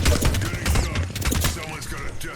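Gunfire hits a player in Apex Legends: dense, rapid crackling impacts and shots running continuously and loudly, mixed with busy game noise and a voice talking.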